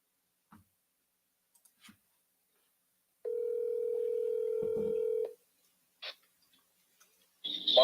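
A telephone call tone sounds as one steady electronic beep of about two seconds, with a few faint clicks before it and brief rustling noises after it.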